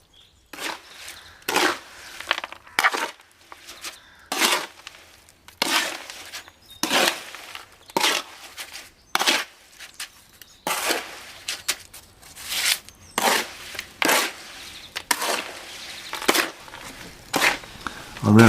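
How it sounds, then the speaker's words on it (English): Concrete is mixed by hand with a tool in repeated rhythmic scraping strokes. Each is a rasping, gritty swish, spaced about a second apart and sounding close, with no talking. "the mixing process is very important, and be assured that a thorough mix results in a much stronger concrete"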